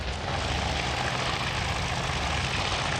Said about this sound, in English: Yorktown's got some planes landing